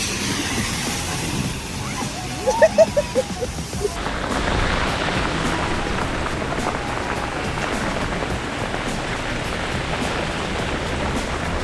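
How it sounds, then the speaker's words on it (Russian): Heavy rain pouring steadily in Busan, South Korea, a dense continuous hiss that gets louder and fuller after a brief break, with a few short clicks and a faint voice early on. "И я в такой дождь никогда просто в жизни не попадала. Просто вот все льется."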